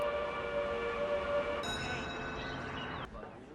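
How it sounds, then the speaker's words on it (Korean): A train horn sounds from somewhere in the distance, drawn-out sustained tones that shift pitch partway through, then fade under a steady low rumble. "어디선가 들려오는 기차 소리."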